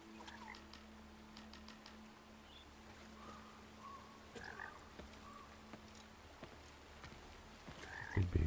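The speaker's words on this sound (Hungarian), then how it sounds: "Egy béka." Frogs croak in the video game Blacktail, scattered soft croaks and chirps over a low steady hum and outdoor ambience, with a louder rustle near the end.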